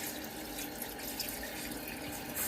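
Water rushing through the main heat exchanger of a Worcester combi gas boiler via an opened vent, a steady close hissing gush with no pauses.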